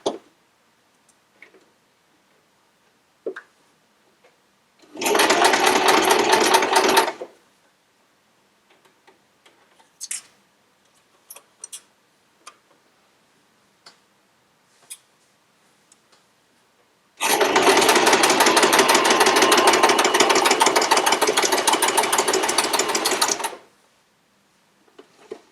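A sewing machine stitches quilt pieces in two bursts, one short and one longer, with faint ticks and clicks in the quiet gaps between runs.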